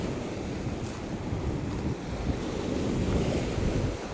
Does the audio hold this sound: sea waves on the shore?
yes